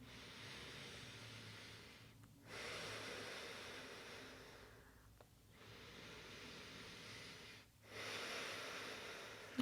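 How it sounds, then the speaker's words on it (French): Slow, deep breaths during a gentle yoga flow stretch, three long airy exhales and inhales with short quiet pauses between, close and soft with no talking. "Encore de respiration bien profonde."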